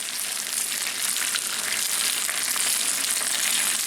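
Leftover pierogies fry in a hot pan with a dense, continuous crackling sizzle, loud and close, with no voices over it.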